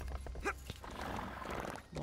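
A horse in Elder Scrolls Online gives a short, faint whinny amid hoof clip-clops and game effects, heard alone without talk.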